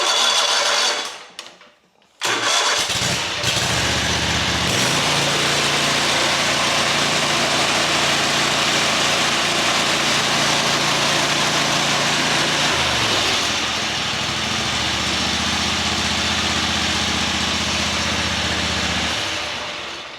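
A car engine cranks briefly, then starts and runs steadily during an alternator test, a loud, close, droning idle that holds for a long stretch and shifts pitch slightly partway through, with no talking.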